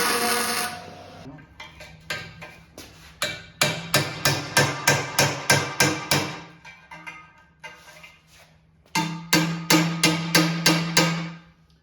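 Hammering out a rear axle bearing without a puller: loud, ringing metal blows in fast, even bursts of around a dozen strikes, a pause, then another quick run of strikes.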